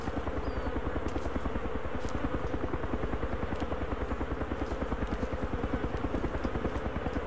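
A helicopter in the survival game DayZ, on the icy Namalsk map, beats with a steady, fast rotor chop that holds at an even, moderate loudness throughout.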